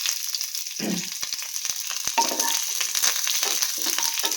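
Mustard seeds splutter in hot oil for chickpea sundal, with close crackling sizzle and scattered sharp pops over a few seconds.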